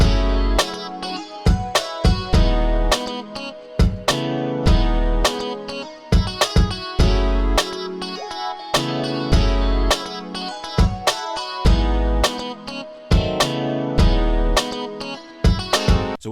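A 2000s R&B beat with punchy kick, crisp snare hits and a simple low bass line, steady looping groove, loud and full, no talking over it.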